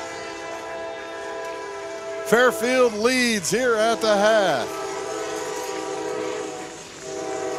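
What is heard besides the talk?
train rolling past a football stadium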